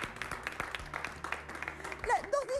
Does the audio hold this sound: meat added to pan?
no